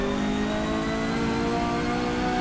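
A Datsun 510 race car engine in Forza Motorsport 7, a loud, steady droning whine held at high revs for a couple of seconds, with no voices.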